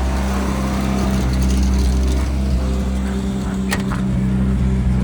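A Suzuki Samurai engine drones steadily on a test drive, a low continuous rumble heard from inside the vehicle with slight shifts in tone and no talk.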